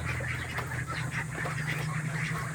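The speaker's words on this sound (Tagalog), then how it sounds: "punta tayo dito sa kulungan ng itik" Ducks in a pen make steady overlapping quacking and honking, loud and close, over a constant droning hum.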